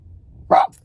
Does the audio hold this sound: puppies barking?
yes